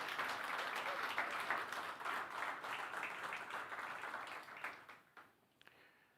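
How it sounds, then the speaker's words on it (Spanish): Church congregation applauding at a Spanish-language service, a fairly quiet, sustained patter of many hands that thins out and fades away over the last second or so. "¿Por qué no le das un aplauso al Señor?"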